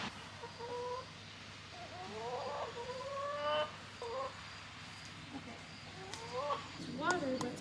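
Chickens clucking in a backyard garden, soft rising and falling calls from a few birds scattered across the stretch, fairly quiet against a faint outdoor background.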